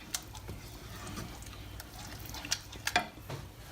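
Grated Parmesan being stirred through risotto at Kendal College, a soft close scraping and stirring with sizzle underneath and a few sharper clicks of the spoon against the pan, no voices.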